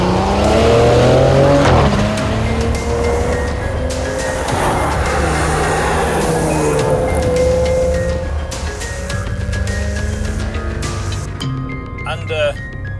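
A Maserati Ghibli S with its 3-litre twin-turbo V6 in sports mode revs hard, a loud, sustained engine note rising and falling in pitch across several pulls, with some tyre noise and talk over it.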